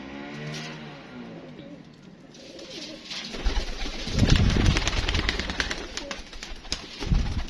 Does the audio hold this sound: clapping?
no